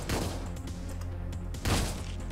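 Gunfire in the top-down video game Hotline Miami 2, two sharp booming shots about a second and a half apart over a low game soundtrack.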